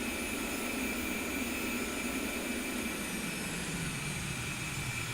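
Twin engines of an A-10 jet idling on their own after the APU shuts down, a loud continuous turbine roar with a high whine, steady and close, no voices.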